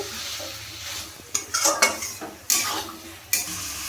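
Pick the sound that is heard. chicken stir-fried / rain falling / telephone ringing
chicken stir-fried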